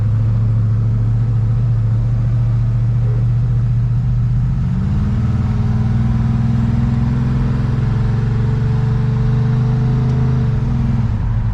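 Chevrolet El Camino with a used Auburn posi rear end in its 10-bolt 7.5-inch axle, driving with a loud, steady low engine rumble that rises in pitch partway through as it accelerates.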